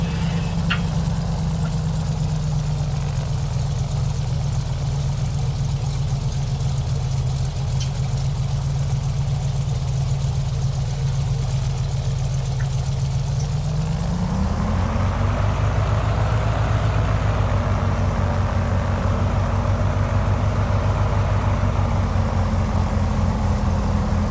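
Carenado Cessna 182 engine in Microsoft Flight Simulator 2020, taxiing at Orbx KORS: a steady low idling drone that rises in pitch and loudness partway through, then holds at the higher level, with no speech.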